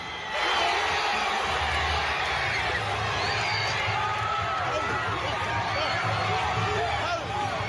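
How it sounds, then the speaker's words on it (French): A large, excited crowd of anti-racist protesters in Bristol on a Sunday afternoon toppling the bronze statue of Edward Colston; a dense, steady roar of many voices with shouts and cheering, with a low rumble underneath throughout. "Galvanisée, la foule déboulonne une statue historique de la ville."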